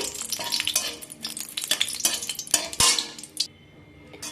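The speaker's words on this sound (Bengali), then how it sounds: "লঙ্কাকে আমি ভিজে তুলে নেব" Dried chillies frying in hot mustard oil in a wok, loud sizzling and crackling bursts with metal spatula scrapes and clanks, close up, easing off near the end.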